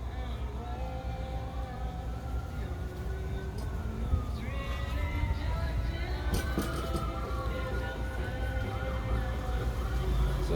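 Emergency vehicle sirens wail at a distance from a backyard, their gliding tones rising and falling steadily under broad outdoor background noise, faint but continuous throughout.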